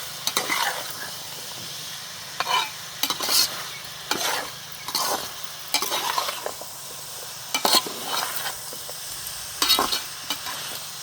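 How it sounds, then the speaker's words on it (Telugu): Country chicken fries in its own released water with salt in a pan. A spoon scrapes and stirs in repeated strokes about once a second over a soft, constant sizzle, close by and with no talk. "బాగా తిప్పుకొని ఇది చికెన్లో ఉన్న వాటర్తోనే వేగుతామండి"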